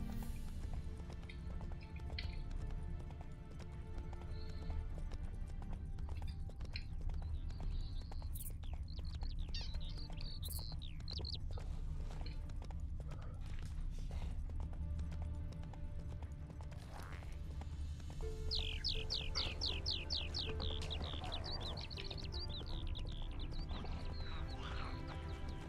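Hooves of Roach, the horse in The Witcher III, pounding along in a steady galloping rhythm beneath ambient game sounds, with chirping birds and occasional mechanical clicks in the background.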